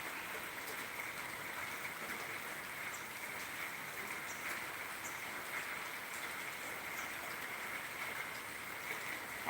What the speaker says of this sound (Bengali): একদম বৃষ্টি পড়ে টাপুর টুপুর